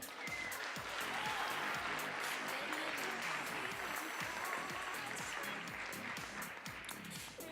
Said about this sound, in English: Please give a round of applause to Bulgaria's Kirill Kirov.